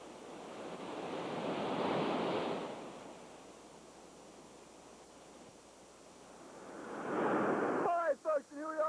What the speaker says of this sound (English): here we are on our next rapid. This is Cat's Pajamas